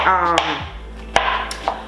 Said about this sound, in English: I hope y'all can hear me over this chopping.